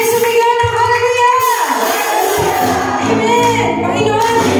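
A church congregation shouts and cheers in praise at a worship service, loud and sustained, with overlapping voices swelling and fading.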